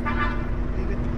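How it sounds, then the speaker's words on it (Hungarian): A vehicle horn sounds on a forest drive, a sustained harmonic toot from close by over a continuous low engine rumble. "Kettő dudál, egyet dudál."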